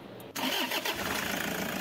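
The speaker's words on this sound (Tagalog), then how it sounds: "Patayin ko ulit itong makina tapos start ko yan" A Toyota Hi-Ace van engine cranks briefly and catches, then settles into a steady, loud idle that runs without pause to the end.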